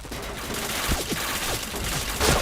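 Rapid bursts of automatic gunfire from a shooter video game rattle out in a dense, continuous volley, loud and close, with several sharper shots standing out.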